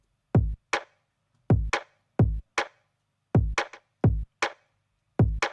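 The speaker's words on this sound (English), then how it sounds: "So we've got the kick and the snare" A dry drum pattern alternates punchy kicks with sharp snare hits in a steady groove, short and tight with silence between.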